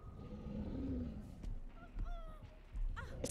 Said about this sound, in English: It's a big fucking goose.